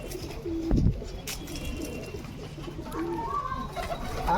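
Pigeons coo softly in low, rolling calls, a few repeated phrases close by, with a sharp knock early on and faint background noise.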